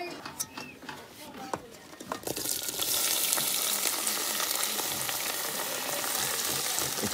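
Okra, onions and chili peppers dropped into very hot oil on a solar electric cooker with phase change thermal storage in Ghana: scattered crackles and knocks, then a sudden burst into loud, steady, close sizzling.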